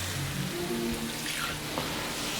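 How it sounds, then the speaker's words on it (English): Water poured into a tomato sauce container and added to a simmering tomato sauce mixture for vegan empanada filling, giving a steady continuous splashing pour close by with no talking. "we're going to add just a little water"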